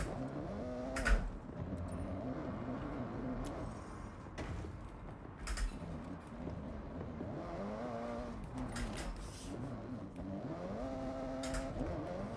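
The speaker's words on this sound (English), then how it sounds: "This car really does not like dirt." Custom Eclipse car in the video game Forza Horizon 6 driving down a dirt road, its engine note rising and falling through gear changes at moderate, fairly soft volume, with occasional sharp bumps and clunks.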